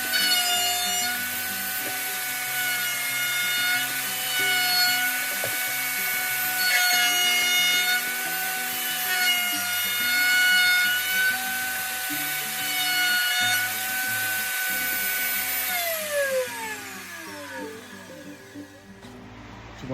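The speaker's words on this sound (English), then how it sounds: "Now I'm going to go back to the router one more time" A router rounds the edges of a nickel Damascus knife, a steady high whine with grinding and rubbing that runs continuously before winding down near the end.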